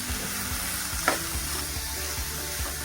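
Cluster beans (guar) fry in a pan with half a spoon of salt as they are stirred. A constant, close hiss of sizzling oil carries soft scraping strokes and one brief louder knock. No voices are heard.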